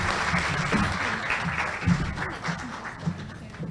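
A seminar audience claps for fellow presenters, a steady patter of applause from a modest group that carries through with a few louder individual claps and some low murmuring underneath.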